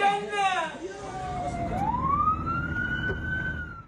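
An ambulance siren wails in Gaza during wartime news coverage, its pitch sweeping down and then rising again in one long cycle, loud and close over steady traffic rumble.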